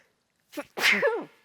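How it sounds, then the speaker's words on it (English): A single close sneeze brought on by cayenne pepper while cooking: a short sharp intake followed by a loud explosive burst, alone against silence. "And I am about to sneeze."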